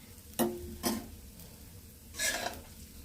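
Oil sizzles and crackles on a hot dosa pan for a masala dosa, arriving in a few short close bursts that fade between them, with no talk over it.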